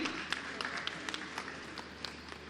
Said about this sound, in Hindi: सबसे पहले जोरदार तालियां इनके लिए.